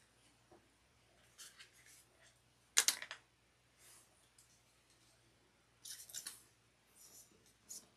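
Scissors snip leather wallet pieces in a few short, crisp cuts spaced apart, close and fairly quiet against a faint background hum.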